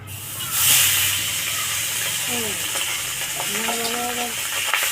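Tengra fish fry lightly in hot oil, producing a steady close hiss and crackle that starts with a brief louder burst and then settles, with faint tonal sounds drifting in partway through.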